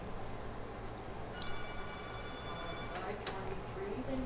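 A telephone rings for an incoming caller on a live bingo show, a faint electronic tone sounding once beneath steady background noise.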